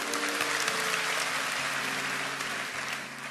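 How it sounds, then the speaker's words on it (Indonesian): A church congregation applauds during a sermon, a broad wash of clapping with a sustained musical tone underneath that fades slightly at the end. "Yang percaya berikan tepuk tangan untuk Tuhan."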